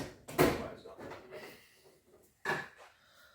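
A wooden drawer slides open with a quick rattling scrape while searching for pliers in a workshop during a Harley-Davidson master cylinder rebuild, followed by a second shorter rumble a couple of seconds later; faint talk sits between.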